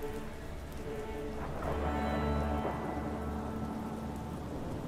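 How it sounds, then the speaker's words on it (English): Steady rain in a video game, a dense continuous patter at moderate level with a low rumble underneath, unbroken throughout. "I really appreciate rain in gaming."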